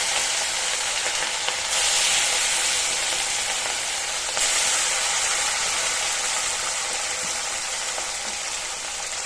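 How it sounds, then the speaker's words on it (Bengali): Rohu fish frying in hot oil, a steady close sizzle and hiss that swells louder twice as the pieces settle, continuous with no talk. "এই মাছটা আমি দিয়ে দিচ্ছি, তেল গরম হয়ে গেছে।"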